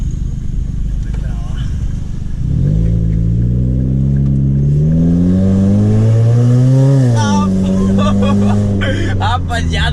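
Ford Focus engine revving loudly with a rising and falling growl that climbs in pitch, then gives way to sharp crackling pops at the end; the recording was made from inside the car.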